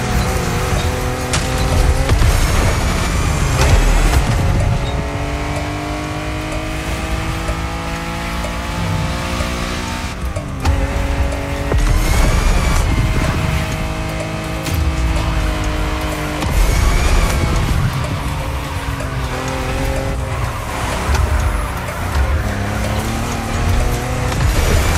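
An off-road race car in The Crew Motorfest video game roars continuously, its engine revving and shifting through gears with rising and falling pitch and occasional tire noise, loud and close throughout.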